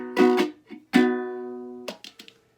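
A soprano ukulele strums a basic blues shuffle on E in short rhythmic chord bursts with gaps between them, close and clear, with no talking.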